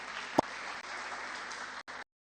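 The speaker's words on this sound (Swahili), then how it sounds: "Makofi kwa tafadhali" A brief burst of audience applause at a media gathering, a soft wash of clapping that holds for about two seconds with one sharper clap near the start, then cuts to silence.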